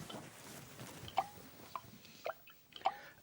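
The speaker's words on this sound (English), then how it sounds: "So this is where the plip, plop, drip, drop sound is coming from" Rainwater drips through a leak in a roof, falling as a few sparse, quiet plips and plops with uneven gaps between them, heard alone over faint background noise.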